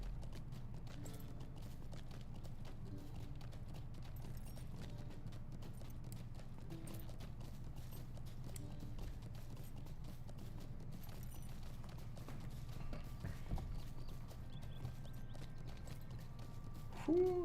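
Steady clip-clop of horse hooves at a trot in the Lord of the Rings Online video game, a continuous even rhythm under low game ambience, moderately close, with a brief faint whinny near the end and no talk.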